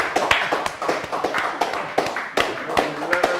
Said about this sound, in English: I say, clap for me.